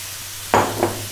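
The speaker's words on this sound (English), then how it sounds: "Next up, we're going to drop in our cooked lentils." Cooked lentils hit a hot pan and get stirred, a sudden loud sizzling burst midway followed by a second, smaller scrape and sizzle, close and with no talking.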